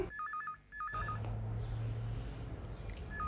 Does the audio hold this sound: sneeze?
no